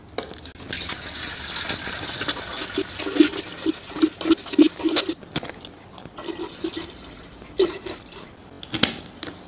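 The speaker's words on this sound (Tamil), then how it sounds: "இப்போ நாம வந்து தண்ணி சேர்த்துக்கலாம்" Water poured into a container while making bottled fruit juice for sale, a steady wet splashing and trickling with some clinks and knocks, close and moderately loud, with no talking.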